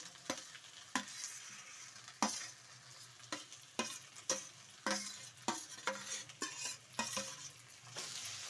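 Onions frying in a pan with a steady sizzle, broken by a dozen or so sharp scrapes and clinks as a utensil stirs them against the pan, close and fairly loud, no talking.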